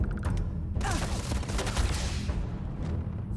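Dense burst of gunfire from the video game Starfield, a loud sustained volley peaking in the middle of the clip over a busy game soundscape.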